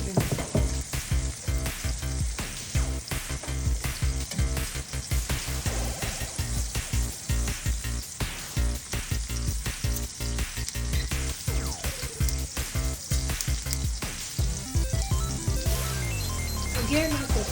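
A T-bone steak fries in olive oil and unsalted butter in a cast iron skillet, giving a loud, steady sizzle with crackling pops throughout, with faint background talk.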